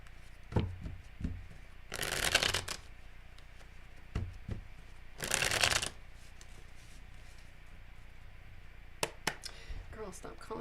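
Tarot cards riffle-shuffled twice in quick crisp bursts, separated by light handling taps and clicks, close by in a quiet room.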